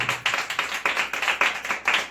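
A church congregation at a Bible study claps together in a steady rhythm, about eight even claps per two seconds, bright and fairly close, with no talk over it.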